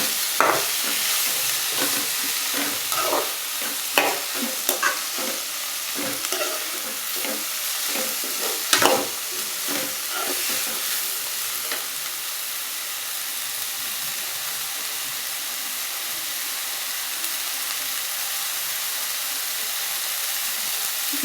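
Food sizzles steadily in a frying pan while being sautéed, with scraping stirs and clinks of a utensil against the pan over a constant hiss.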